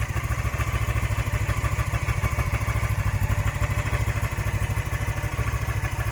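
A cold Honda CB500S motorcycle engine idles in the rain, steady with a rapid, even low thumping pulse, loud and close, with a rough, slightly uneven running note throughout.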